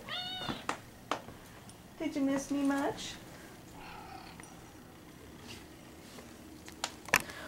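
A pet cat meows close by, a short call and then a longer drawn-out meow, with another near the end, while someone speaks softly to it between the calls.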